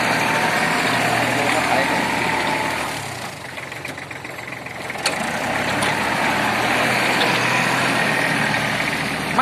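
A 34-horsepower tractor engine drones loud and continuous while ploughing a sandy field after a storm, dipping slightly midway, with faint voices beneath the engine noise.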